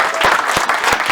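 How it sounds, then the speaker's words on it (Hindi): An audience at a film show event claps together, a dense, steady wash of applause with a few sharper claps standing out, loud and close. "एक बार जरा तालियां बजाएं सर के लिए।"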